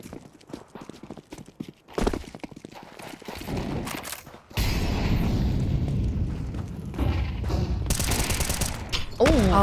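Counter-Strike gameplay on the Anubis map during a competitive match, with bursts of rapid gunfire and then a sustained, heavy blast of grenade explosions, loud and busy throughout.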